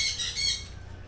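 Birds squawk repeatedly at a distance from a RORO ferry near Semirara Island, harsh high calls layered together without any talking.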